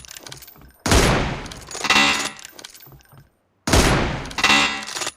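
Two sharp, loud sniper rifle shots in a video game, each with a long decaying echo tail, spaced a few seconds apart.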